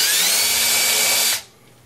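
A power drill whines steadily while boring holes into a guitar pickguard, loud and close and continuous for over a second, then cuts off abruptly and leaves faint room noise.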